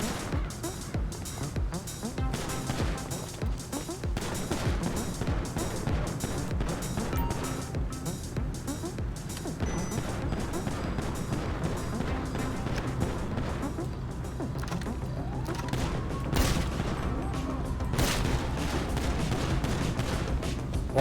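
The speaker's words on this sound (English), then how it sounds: "I don't know who's shooting." Dense, continuous gunfire from a GTA 5 Online game session, with rapid overlapping shots and bursts sustained throughout, loud and busy, and a few sharper cracks near the end.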